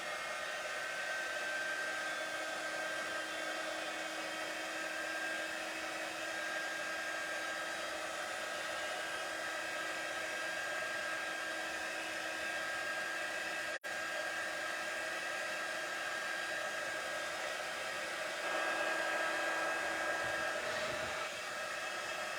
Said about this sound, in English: I'm going to use my heat gun and I'm going to dry it a little bit to speed up the process